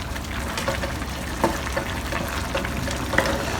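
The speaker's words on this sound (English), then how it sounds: "Let's give it a little stir." Potatoes and minced pork are stirred in a pan, a steady sizzle of frying with soft scrapes and occasional light clinks of a utensil, continuous and close.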